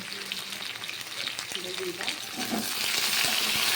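Cut ridge gourd, papaya, taro, pointed gourd, potato and green banana are stirred in a hot pan, producing a loud, crackling sizzle with scraping strokes that swells louder in the final seconds.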